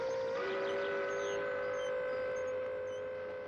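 A train whistle blows steadily over rolling railway noise as Red Army recruits board trains for the front in spring 1943, in archival wartime footage; the tone is loud and sustained and fades slightly toward the end.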